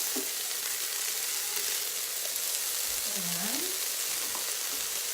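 Green onion and celery sizzle steadily in a hot cooking pot, a soft, even frying hiss throughout, with a brief scrape of a stirring spoon partway through.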